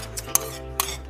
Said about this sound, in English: see I'm whisking because this thickens up so fast